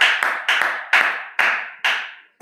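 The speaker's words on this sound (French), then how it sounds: "On acclame plus fort pour le roi des rois" A church congregation claps together in a worship service, six or seven sharp, close claps at an uneven pace, each ringing briefly in the room, with no voices heard.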